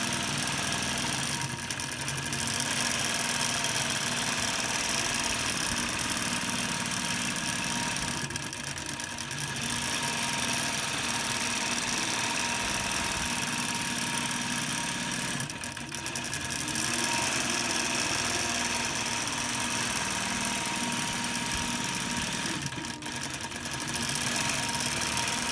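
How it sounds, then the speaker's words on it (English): A computerized long arm quilting machine runs steadily at close range, its motor hum and rapid needle stitching continuous throughout, with a few brief pauses in between. No one speaks. "We live in an amazing age of modern technology with the long arm quilting machines."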